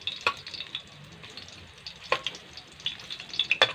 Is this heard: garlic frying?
yes